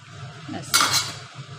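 A lid clatters down onto a cooking pot of lau chingri, bottle gourd with prawns finished with ghee and garam masala, in a home kitchen: one short metallic clank with a brief rattle over a low background hum.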